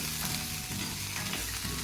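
Onion and tomato fry in a pan with a continuous close sizzle and soft stirring scrapes, alone and without talk.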